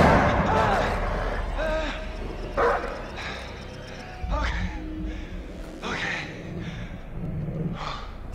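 Dog barking in the horror video game Until Dawn, a few short gruff barks scattered among game noises while someone talks over them.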